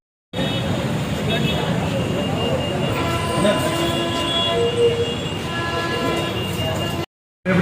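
A railway train rolls past at close range, a loud continuous rumble of wagons with squealing wheels and screeching metal filling the whole stretch before cutting off abruptly near the end.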